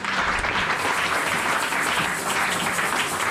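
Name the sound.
congregation applauding in church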